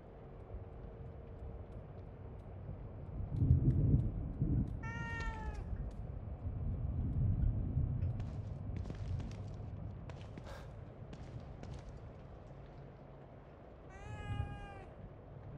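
A cat meows twice in The Evil Within 2: a drawn-out, clear meow early on and a second near the end. Low rumbling game ambience and faint footsteps run underneath.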